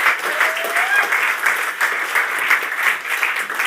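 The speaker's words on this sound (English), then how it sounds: "Let's give them one more round of applause" Steady applause from an audience at a climate debate, a dense even patter of many hands clapping close and loud, without break, for a few seconds.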